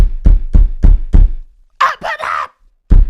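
Heavy repeated banging on a door, five loud thuds in steady rhythm, then a brief burst of shouting, followed by one more bang.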